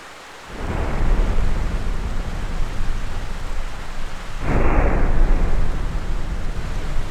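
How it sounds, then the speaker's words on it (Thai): Heavy rain pours steadily in GTA San Andreas running an ENB graphics mod, with rolling thunder swelling in twice, the second rumble near the end louder and closer, no voices. "แล้วก็ฝนตก"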